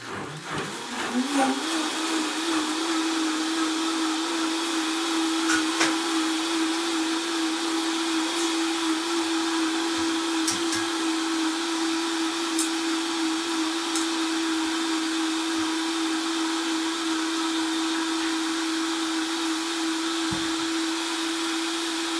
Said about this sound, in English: Then we're gonna blend.